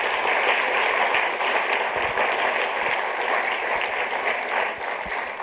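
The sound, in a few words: audience applause for the judges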